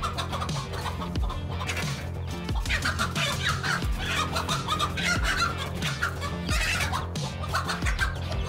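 A hen guarding her chicks clucks repeatedly as a large snake enters their enclosure, the clucks coming steadily over a busy, continuous background.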